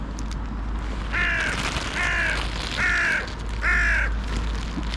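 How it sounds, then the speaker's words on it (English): A bird repeats a feeding call four times at an even pace, each call a short harsh caw-like burst that stands clearly above steady outdoor background noise. "There's another bird giving the feeding call."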